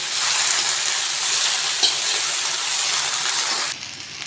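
Okra frying on high flame for restaurant-style masala bhindi, a loud dense hissing sizzle with continuous stirring, close and steady before dropping off slightly near the end.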